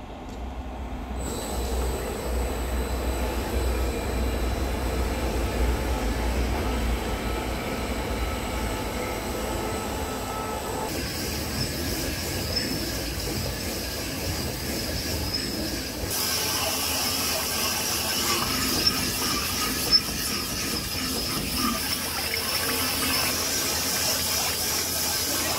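A Sunnen honing machine on full auto works the bore of a D10 dozer barrel, giving a steady hiss and grinding drone at moderate level that shifts in tone partway through, with no talk.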